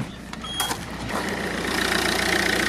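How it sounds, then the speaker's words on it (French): A car engine is started with a TUERBB 4000A battery booster jump starter, cranking briefly before catching at about one second, then settling into a steady, close idle hum with no talking. "Et là, on va démarrer le véhicule."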